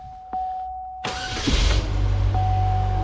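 A car engine with 92,471 miles, exhaust still fitted, cranks and catches, then settles into a steady low idle rumble close by, after a brief mechanical whir.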